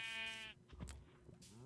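Sheep bleating in Minecraft survival mode, one wavering game bleat followed by a softer second call, clear and close with no talk over it.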